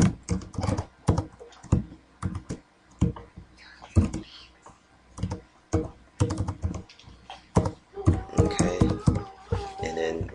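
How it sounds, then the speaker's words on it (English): Someone types an SQL statement on a computer keyboard, producing a close, steady run of crisp key clicks with brief pauses and a few heavier taps, a voice faintly present beneath. "now we type in the SQL statement that we're going to run on this particular table"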